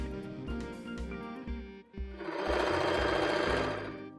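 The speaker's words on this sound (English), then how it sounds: "Fold the fabric and I will sew here until the end of fabric." A sewing machine stitches fabric for a baby's twisted turban hat, running in a steady rapid rhythm close up, slowing briefly before speeding into a continuous whirring run.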